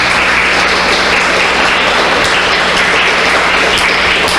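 Sustained applause from an audience at an artist talk in Georgia, a dense, steady wash of clapping that runs at even loudness throughout with no speech.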